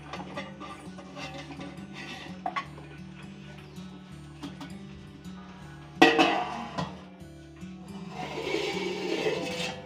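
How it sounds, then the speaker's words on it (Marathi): A metal cake tin is set down inside a preheated cooking pot, giving a short clank and scrape of metal on metal amid quiet kitchen clatter, followed by a softer rustle, close but fairly faint. "आता हे केक टिन ठेवून देऊया."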